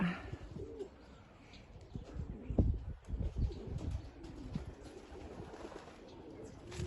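Pied pigeons coo inside a shed, soft rolling calls repeating close by, with a second bird joining in, against low rustling and room noise.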